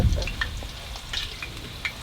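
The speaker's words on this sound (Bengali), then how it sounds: "আলু তো হয়ে গেছে মারো সুন্দর ভাজা হয়েছে" Potatoes fry in a hot kadai, giving a low, steady sizzle with small scattered crackles close by and no voices.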